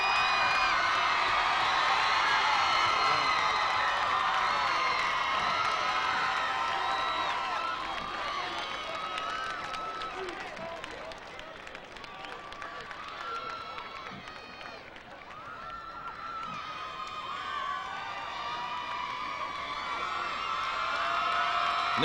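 A Huntington High School cheering section roars at a 1988 high school tournament award ceremony, a sustained, reverberant crowd noise laced with whoops and shouts that swells and dips over about twenty seconds.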